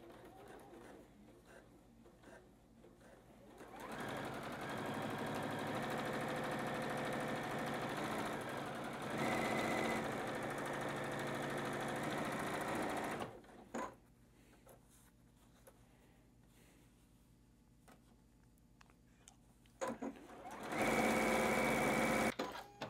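A sewing machine stitches the long edges onto a batik quilt block in two steady runs, first a long stretch and then a shorter burst at the end, with quiet pauses between them where a voice speaks.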